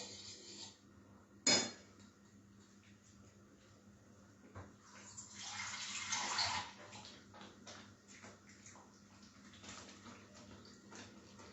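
Water is poured into a pot of thick homemade gravy in a home kitchen, a brief splashing pour after a sharp clank of the pot, with a low steady background hum.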